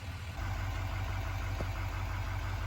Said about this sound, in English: I don't know if there's better sound than a diesel.